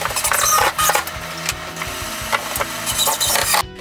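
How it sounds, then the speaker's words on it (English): Cabinet wall fasteners being tightened during a kitchen cabinet install, heard as close, uneven mechanical whirring and ratcheting with scraping wood contact, moderately loud and without speech. "Jude tightens all the wall fasteners."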